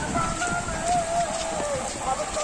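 Heavy rain from Cyclone Remal falls in a continuous broadband hiss, loud and close, with faint tonal sounds running through it.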